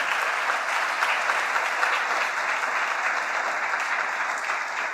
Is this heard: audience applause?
yes